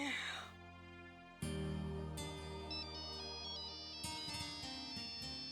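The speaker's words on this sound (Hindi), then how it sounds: "ये देखिए बुआ जी, राहुल भैया का फोन" A ringtone melody plays loudly and continuously, its bright tones stepping up and down with a steady backing beat.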